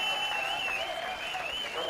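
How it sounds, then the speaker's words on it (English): A crowd of baseball fans at a Czech Republic versus Argentina game cheers and claps in a steady, sustained roar, with a broadcast voice faintly underneath. "And the fans start cheering."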